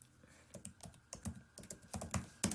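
Words being typed into a note on an iPad: a quick, irregular run of soft, close taps, some in bunches, at low volume with no talking.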